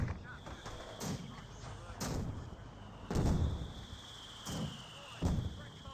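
Mortar firing smoke rounds in the real-time strategy game Company of Heroes 2: heavy booming shots land roughly once a second in an uneven series over a rumbling battlefield bed, with a faint voice underneath.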